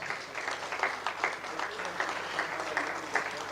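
Audience clapping at a certification ceremony for eliminating mother-to-child HIV transmission, a moderate, steady patter of applause throughout, somewhat distant and filling the room.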